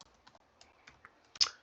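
Typing on a computer keyboard, a sparse series of soft, close key clicks at an uneven pace, ending with a slightly louder keystroke.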